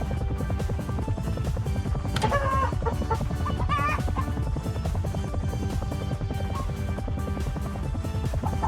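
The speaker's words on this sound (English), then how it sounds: "Alright, where's the rest of the chickens?" Chickens cluck in a video game, with a few distinct clucks and squawks over a dense, steady bed of game music and ambient sound.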